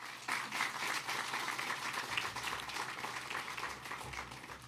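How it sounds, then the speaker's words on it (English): An audience at a mayoral public housing announcement breaks into applause, a full, steady clatter of many hands that rises quickly and holds, tapering slightly toward the end with no voices over it. "Let's give them a round of applause."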